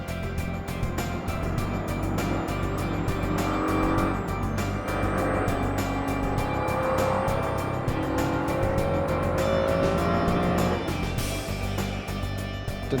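A Jaguar XJ220 on a fresh set of Bridgestone tyres runs a race lap, its engine droning steadily and loudly throughout with shifting pitch as it accelerates and changes gear, with no talking over it.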